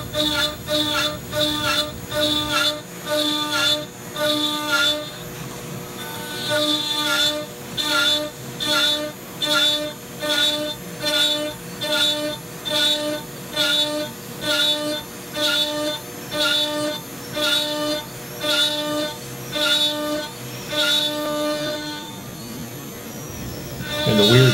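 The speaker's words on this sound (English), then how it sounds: "the weird sound you hear that sounds like an 80s sci-fi movie is the shot back slowed down to 1/4 speed" A CNC router cutting with a spiral bit, played back at quarter speed, becomes a steady, eerie electronic-sounding drone whose tones pulse in a regular, throbbing rhythm throughout.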